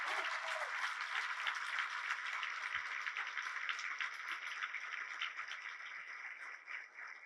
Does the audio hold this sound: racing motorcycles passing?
no